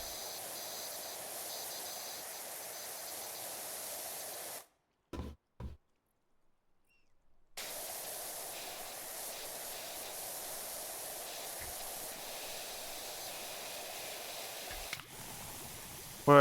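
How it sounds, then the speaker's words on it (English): A pressure washer spraying in PowerWash Simulator 2, a loud steady hiss that cuts out for a few seconds with a couple of brief bursts, then resumes steadily. "Might as well just spray all this here."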